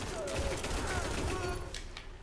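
A rapid-firing auto rifle in a first-person shooter video game rattles off a continuous burst of quick shots, loud and dense with no pauses across the short stretch.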